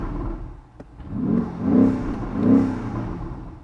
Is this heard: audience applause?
no